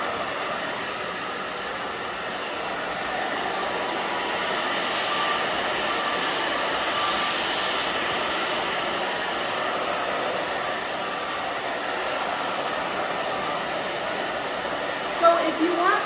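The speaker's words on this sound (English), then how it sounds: "move your blow dryer around" Handheld blow dryer drying short pixie-cut hair, a steady, close, broadband airy roar running without a break for the whole stretch, with a small bump of handling noise near the end.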